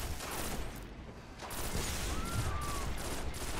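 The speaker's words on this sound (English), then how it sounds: "I put like all my shotgun shots into it" Shotgun shots fired at a tank boss, the Devil Walker, in a video game strike, heavy repeated blasts within a dense, loud din of combat noise, with a thin whistling tone passing through.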